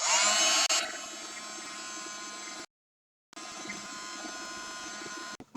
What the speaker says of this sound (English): I'm going to hit that with the heat gun